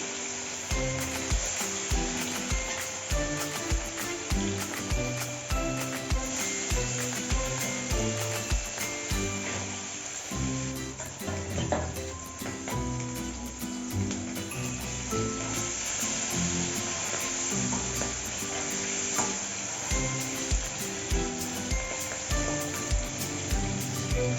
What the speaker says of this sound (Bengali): এই কড়াইতে দিয়ে দিলাম, একটু হালকা করে ভেজে নেব।